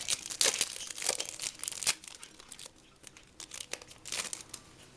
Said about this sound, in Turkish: İlk paketi de öylesine bir açalım.